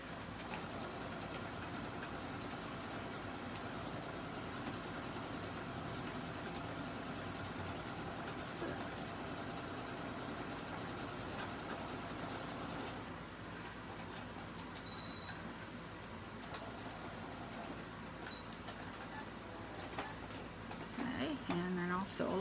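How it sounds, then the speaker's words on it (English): A sewing machine stitches quilt binding with mini piping and red thread at a long stitch length, giving a steady, close motor hum and rattle for about thirteen seconds before it stops and quieter room sounds remain. "I'm going to stitch both of them again so that we can see them."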